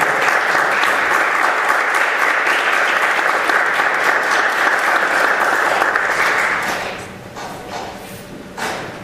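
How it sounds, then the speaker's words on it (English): An audience at a lecture on Thomas Aquinas bursts into loud, dense applause that holds steady for about six seconds, then thins into scattered claps and a few thumps as it fades out. "I hope you have applauded for Thomas Aquinas and Bernard Lonergan"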